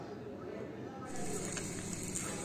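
Eggs frying in a pan for a home breakfast, a steady close sizzle that swells louder partway through and holds as a continuous crackling hiss.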